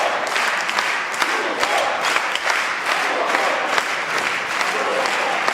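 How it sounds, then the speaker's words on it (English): A table tennis crowd at the Europe Top 16 Cup chants Timo Boll's name in a loud, rhythmic roar with bursts of clapping, steady throughout. "And the crowd chants Timo Boll's name"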